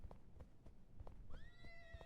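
A horse in the game Nightsoil, hooves clopping in a slow, steady rhythm before a faint, high whinny rises and holds near the end.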